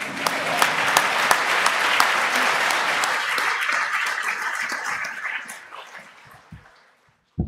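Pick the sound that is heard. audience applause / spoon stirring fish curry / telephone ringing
audience applause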